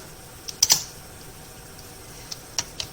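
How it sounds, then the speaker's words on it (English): Computer keyboard typing, sparse soft key taps scattered over a quiet room background, a few sharper clicks near the start and end, no voice. "I'm just typing it."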